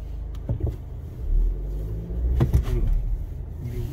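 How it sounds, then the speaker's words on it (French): A BMW X3 20d xDrive F25 diesel SUV, 184 hp, accelerates with a low engine rumble that swells and surges around the middle, heard from inside the cabin without talk. "On va accélérer un petit peu."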